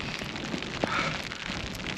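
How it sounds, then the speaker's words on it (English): Hail batters a mountain summit in the Scottish Highlands as a steady, dense patter and hiss, close and continuous, with a few sharper impacts. "we're just getting battered by a hail shower"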